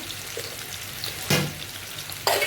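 Fried onion and spices sizzling in a pan, with a steady frying hiss and two sharp bursts of louder sizzle as more goes in or gets stirred.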